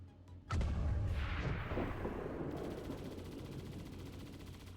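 Heavy gunfire in XCOM: Long War of the Chosen, a sharp loud blast opening into a dense rolling barrage that keeps rumbling and slowly fades over several seconds, with no voices.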